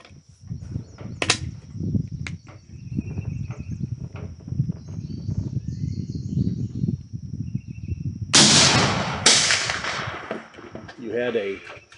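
Historic single-shot centerfire cartridge rifles firing outdoors, a couple of sharp loud reports standing out near the end after a stretch of quieter handling noise and background sounds.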